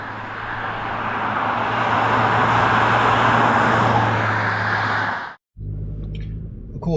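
A 2022 Audi RS4 cruising in comfort mode gives a steady, loud interior road roar with a low engine hum, broken by a brief dropout near the end before the same drone resumes.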